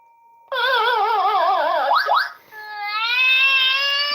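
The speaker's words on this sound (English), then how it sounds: "Crying babies." A loud, synthetic sound effect of crying babies plays on a morning radio show. Wavering wails start abruptly, break briefly, then return as sustained, rising cries. No talk accompanies it.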